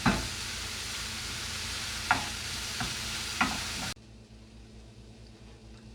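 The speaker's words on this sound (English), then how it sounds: "my Beyond Meat beef." Plant-based Beyond Meat beef sizzles and fries in a pan, a steady dense crackle with a few stirring scrapes, loud and close, then quieter after the heat drops.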